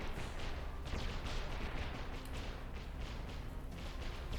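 Rapid bursts of belt-fed gunfire crackle continuously at a distance with a dense, rumbling rattle, no pauses standing out and no voices over it.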